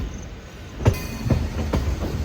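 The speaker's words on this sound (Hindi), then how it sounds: "सामने से डिपार्चर ले रही है Ajmer Bandra weekly express web 7 locomotive के साथ" The Ajmer Bandra Weekly Express, hauled by a WAP-7 electric locomotive, departs a junction station, its rolling wheels giving a low steady rumble with several distinct rhythmic clacks over rail joints, heard from a passing train nearby.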